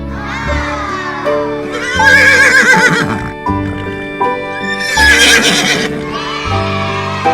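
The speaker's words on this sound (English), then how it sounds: "Horse." A horse neighs loudly and close, two long shrill whinnies with shaking, wavering tones, separated by a short gap with snorting and low rumbling, alone without talk.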